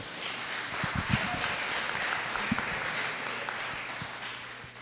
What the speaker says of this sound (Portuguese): Aplauda, Senhor.